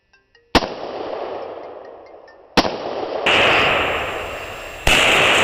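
Green tip SS109 rifle rounds strike propane and spray paint cans outdoors, giving sharp, loud cracks, then a rushing hiss and roar as gas bursts out. Further impacts follow, with no talking.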